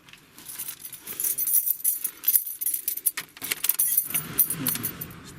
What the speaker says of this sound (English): Let me just put the key in the ignition.